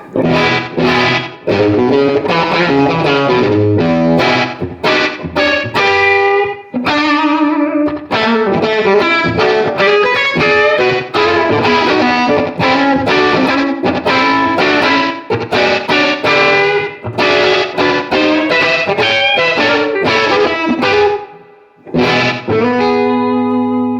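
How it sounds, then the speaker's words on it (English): Heavily distorted electric guitar through an MXR Custom Shop Raijin Drive pedal on its distortion setting plays hard-picked chords and riffs, loud and sustained, with brief pauses between phrases. "All right, low end of the drive, up on the distortion setting."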